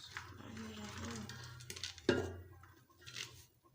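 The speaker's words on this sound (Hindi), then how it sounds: "अब इसके अंदर हम डाल रहे हैं चावल" Rice for chicken biryani tipped into a pot, with close metallic clinks and scraping of utensils, one sharp knock partway through, then quieter shuffling.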